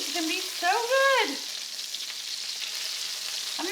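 Meatballs sizzling in sauce in a frying pan, with a steady frying hiss and brief stirring scrapes, close and moderately loud, alone without talk.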